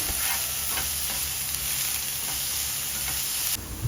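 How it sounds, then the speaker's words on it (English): Onions fry in a pan for egg fried rice, giving a steady close sizzle with light stirring scrapes throughout. "We are frying the onions."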